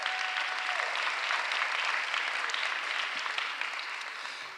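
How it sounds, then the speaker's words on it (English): A crowd at a Philadelphia State of the City address applauds warmly, a broad sustained wash of clapping that holds steady and then gradually fades toward the end. "Give Andre a huge round of applause"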